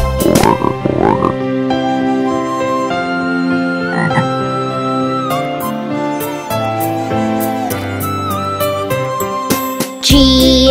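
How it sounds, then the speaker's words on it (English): A cartoon frog croaks in a kindergarten nursery-rhyme cartoon, with croaks set against bright, tuneful music and little or no talk. "F is for frog"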